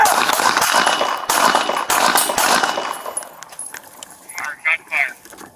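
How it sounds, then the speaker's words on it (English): Police handgun fire recorded on an officer's body-worn camera during a backyard shootout in Phoenix, with loud, harsh rapid bursts in the first seconds, then quieter clatter and brief shouting. "Gunfire."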